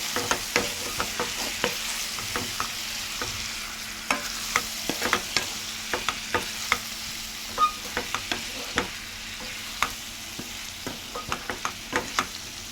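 Tomato curry fries in a pan under a constant loud sizzle, while a spoon scrapes and knocks against the pan in irregular repeated strokes as the mixture is stirred.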